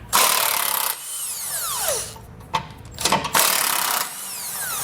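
Two 15mm tow hook bolts being removed from a 2021 Ford Ranger with a power tool, two loud bursts of whirring impact-driver noise with brief mechanical clicks and rattles between them, close up, no talk.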